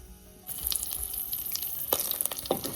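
Oil crackles and sizzles steadily in a pan as chopped onions are added, starting abruptly after a brief quiet moment, with sharper spitting pops near the end.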